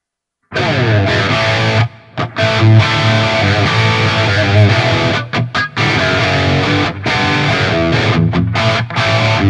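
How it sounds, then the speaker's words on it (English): Loud, distorted electric guitar through a Fractal Axe-FX II reverb plays continuously with a washy, spacious tail, with several short breaks where the sound drops out briefly. "Now that's a good reverb."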